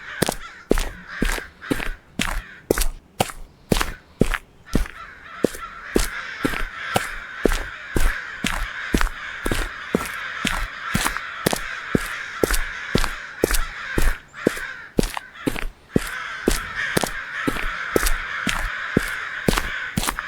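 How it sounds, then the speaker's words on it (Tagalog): Crows caw repeatedly and loudly in a steady, rhythmic series of harsh calls, with a faint continuous background hum underneath, in the horror video game Okaeri. "Daming uwak ah."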